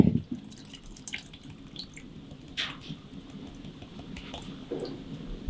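Ground mole seasoning liquid passes through a strainer, a quiet run of soft drips and small splashes trickling irregularly into a pot, with no voices.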